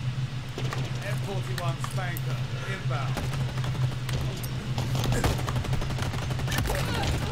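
Rapid gunfire from Halo Infinite multiplayer, bursts of automatic weapon fire and in-game effects running steadily throughout under a constant low drone, with a player talking over it.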